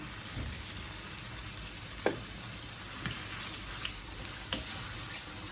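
Mutton chukka frying in a pan on high heat, a steady dense sizzle with a few faint clinks and stirring taps over it, no voices.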